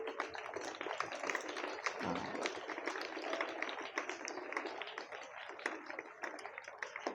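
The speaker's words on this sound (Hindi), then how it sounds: "जरा उनके लिए भी एक जोरदार ताली बजाइए" An audience at a motivational talk claps for Nidhi, a brisk, scattered patter of many hands that keeps going evenly from start to finish, fairly soft and a little distant.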